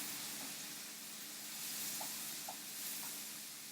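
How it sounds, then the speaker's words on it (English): Yellow split pea and smoked bacon soup simmering slowly on a cooker, a steady soft hiss and sizzle with a few faint bubbling pops, quiet and continuous with no voices. "you're just going to leave it on the cooker on a slow simmer for about 2 hours"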